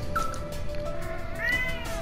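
A cat meows a few times, short high calls standing out briefly over a steady background of game music.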